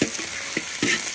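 Pork belly stir-frying in a wok as its fat renders, with a soft continuous sizzle broken by a few sharp scraping clicks of the spatula against the metal, close and moderately loud.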